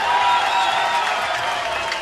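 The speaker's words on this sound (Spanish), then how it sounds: "¿Se merece el aplauso, sí o no?" A crowd at a lively Jarocho gathering applauds, a steady, even roar of clapping and cheering that holds at a constant level for a couple of seconds.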